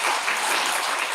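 A church congregation applauding during a Sunday morning service, a dense, steady wash of many hands clapping, loud and close, with no talking.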